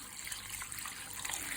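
Water running steadily into a stockpot of bones for bone broth, a continuous close hiss and trickle with no voices.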